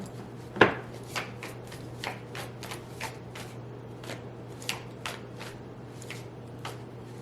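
A deck of tarot cards is shuffled with soft repeated riffling taps, one sharper snap near the start, close and quiet with no talking.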